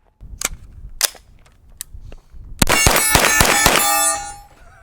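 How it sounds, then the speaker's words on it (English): A Grand Power Stribog SP9A1 fires a rapid string of shots at a steel target. Sharp reports mix with loud ringing clangs, followed by a sustained metallic ring that fades out. "Steel target finally fell. 5th shot there."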